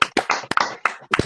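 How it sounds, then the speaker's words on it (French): A few sharp hand claps at 8 pm in applause for medical staff, loud and close, spaced irregularly across about a second. "chaque soir à 20h, on applaudit le personnel médical"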